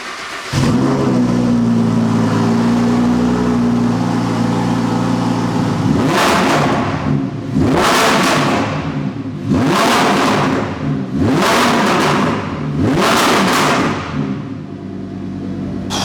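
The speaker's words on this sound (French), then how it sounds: "Le V10 Atmo de cette Huracan performante" A Lamborghini Huracán Performante's naturally aspirated V10 idles with a low burble, then revs hard five times in a row, each rising to a loud, high scream before dropping back.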